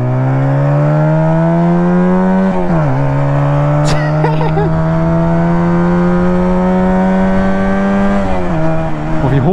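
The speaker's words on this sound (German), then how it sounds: "Oh, wie hoch dreht der Motor denn?" 125cc two-cylinder chopper motorcycle engine held at high revs, a loud sustained buzzing whine that dips briefly twice, with a faint voice mixed in near the middle.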